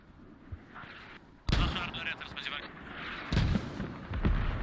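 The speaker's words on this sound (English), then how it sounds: "So these are the creeping barrage from Husaria" Artillery creeping barrage in a multiplayer war video game, with sharp heavy blasts and booming impacts landing in bursts over a continuous rumble of battle noise.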